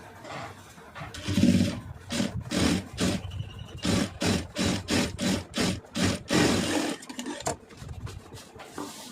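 A length of cloth being cut for a door or dining mat, a series of rhythmic, evenly spaced rasping cuts repeating steadily, close by with no talk.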